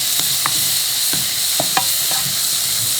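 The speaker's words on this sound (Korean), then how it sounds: "볶으면요 버섯 같은 게 딱 졸아집니다" Mushrooms and zucchini stir-fried in a pan, giving soft sizzling and scraping stirring strokes in irregular bursts over a steady low frying hiss, close by with no talking.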